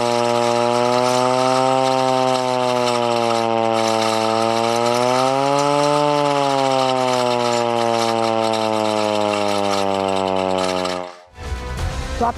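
Hand-cranked war siren sounding for an air-raid mock drill in India: a loud, steady wailing tone that rises and falls slightly as the crank is turned, then cuts off abruptly near the end.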